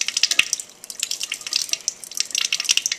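Water trickles and drips into a small laboratory graduated cylinder, a close run of light, bright splashes and droplet plinks.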